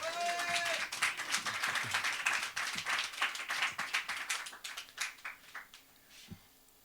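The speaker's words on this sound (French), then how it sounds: "On peut applaudir quand même." A burst of applause from a crowd at a slam poetry event in Antibes, many hands clapping loudly and then thinning out into scattered claps near the end.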